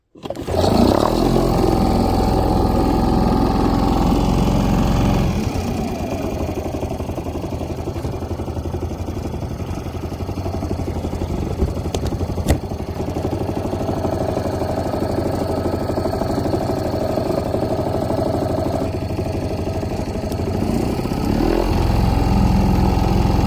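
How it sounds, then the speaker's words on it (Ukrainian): A small Parsun 2.6 outboard motor on a fishing boat kicks into life, then runs steadily. Its buzzing drone rises and falls as the throttle is opened and eased, loud and close, with no talk over it. "Другий запуск. Думаю, не треба підсос давати. Дам чуть-чуть газу."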